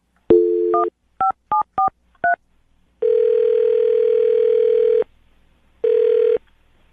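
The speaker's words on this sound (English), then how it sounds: "I'm going to dial her phone number right now" Landline telephone keypad dialing: a steady dial tone, then a quick run of separate touch-tone beeps in an uneven rhythm, followed by a long steady tone and a shorter one after a pause, loud and close with no voices.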